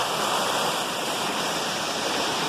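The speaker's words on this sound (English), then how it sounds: "nice waterfall." A waterfall rushes steadily at close range, a dense broadband roar that fills the whole clip without pause, with no voices over it.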